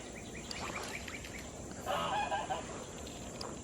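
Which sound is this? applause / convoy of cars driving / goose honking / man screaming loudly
goose honking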